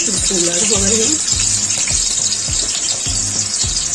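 Onions frying in hot ghee and oil for chana pulao, a loud broad sizzle with rhythmic low clanks of stirring, and a brief voice near the start.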